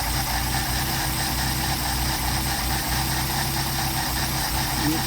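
A Mercedes 190SL engine idles steadily on Solex carburetors while the idle mixture screw is being adjusted, giving a continuous close mechanical drone with a faint rhythmic pulse and a busy, noisy top end.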